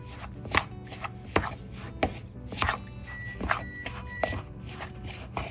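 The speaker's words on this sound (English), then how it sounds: "And then stir this up, and you can see how it's already starting to turn into more like that batter" Almond flour chocolate chip cookie batter stirred in a bowl, giving a series of soft scraping knocks and taps at an uneven rhythm, close up and moderately quiet, with no talking.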